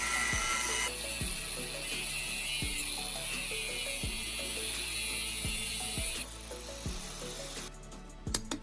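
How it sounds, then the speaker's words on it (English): A power cutting tool grinds along the seam of a fridge compressor's metal casing with a steady, loud whine, while a rhythmic descending sweep repeats roughly every second and a half as the blade works around the body. "I'll meticulously cut along the seam that runs around the compressor's body."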